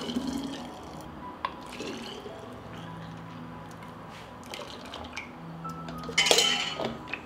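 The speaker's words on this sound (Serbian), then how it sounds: "I sada ovako vreo sok sipamo u flaše." Hot juice is poured from a pot into glass bottles, a running liquid trickle with scattered clinks of glass and metal and a louder splashing clink near the end, close by and without speech.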